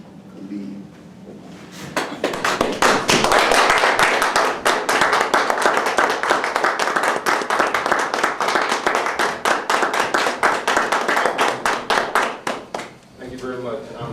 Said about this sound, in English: please give a healthy round of applause for Priest Khalid